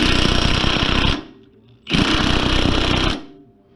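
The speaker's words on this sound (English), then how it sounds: "I'm just gonna tighten this bolt down." A Milwaukee impact wrench hammers an axle bolt tight in two loud, rattling bursts of about a second each, separated by a short pause, close to the listener.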